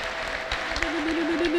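A church congregation gives a short burst of applause under a sustained held tone, heard for just over a second.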